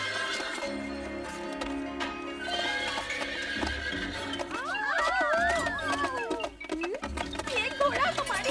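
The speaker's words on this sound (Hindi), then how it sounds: "ये घोड़ा हमारी रसोई में क्या कर रहा है?" A horse in a kitchen whinnies with a wavering neigh over cartoon music, and hooves clip-clop around it.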